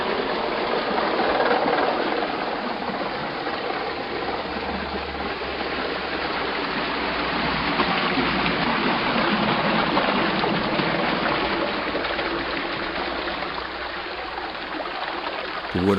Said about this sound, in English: When the gates are open, the water pours in.